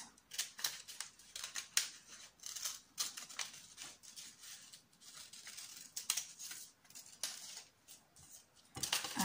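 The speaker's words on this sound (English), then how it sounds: "very carefully cut out your cross" Scissors cut out a paper cross, giving a quiet, close run of irregular snips and crisp paper rustles, with brief pauses between cuts.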